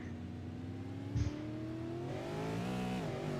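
V8 Supercars engines roar through a hairpin at Hockenheim, a continuous loud rising engine drone with shifting pitch and a brief thump partway through, no talk.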